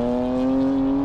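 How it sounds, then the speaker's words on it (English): A 2021 BMW M4 drones loudly and steadily at near-constant pitch while lapping the Nordschleife track, with no voices. "unsure why the exhaust note just got way loud"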